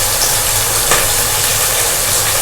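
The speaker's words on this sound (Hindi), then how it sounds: "ये फ्राई होने के लिए डाल रही हूँ।" Chicken keema fries in a pan with a steady, dense sizzle that stays loud and even throughout, with no talking.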